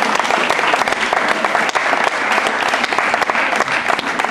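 Audience applause at a handi-karate event in the Rhône, a dense, steady round of clapping from a crowd that fills the whole stretch without pause.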